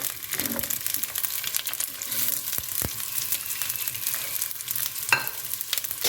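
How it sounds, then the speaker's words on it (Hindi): Half a tablespoon of oil frying in a pan with vegetables on the side, a steady broadband sizzle with occasional utensil clicks and stirring scrapes, close and moderately loud, with no talking. "तो यहाँ इसको थोड़ा सा फ्राई करेंगे हम।"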